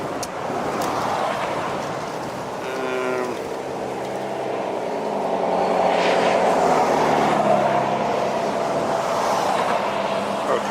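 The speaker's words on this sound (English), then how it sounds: "what happened with this Viva plane is it was a go-around" A Viva Airlines Airbus A321neo jet performs a go-around, its engine roar rising and sweeping in pitch as the plane passes at a distance, loud and sustained with no voices.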